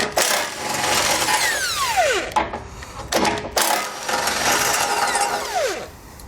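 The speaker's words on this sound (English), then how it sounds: "We'll remove those both with a 16mm socket." Ratcheting 16mm socket wrench removing the two lower tow hook bolts on a 2017 vehicle, a fast clicking ratchet run close by, pausing briefly midway before a second burst.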